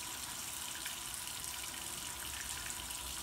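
Water runs steadily from a tap while an electric head shaver is rinsed, a constant close hiss with no breaks and no voices.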